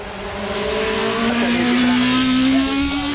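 A Tyrrell Matra Formula One race car at the Goodwood Festival of Speed, its engine note rising steadily as it drives past close and loud, with a commentator talking over it.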